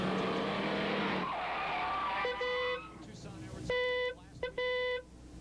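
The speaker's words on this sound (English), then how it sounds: "We're at Colorado National Raceway on the outskirts of Denver, watching this truck series in its 6th go of the season." Race trucks in a 1996 truck series event tear around an oval at Colorado National Raceway near Denver, a dense roar of engines giving way to sharp, repeated tire squeals in bursts, with a commentator talking over the action.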